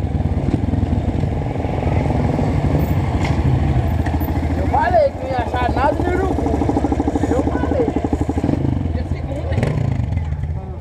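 A group of sixteen trail dirt bikes idles and revs together, a loud, steady engine drone with a brief rising rev midway, while people talk nearby.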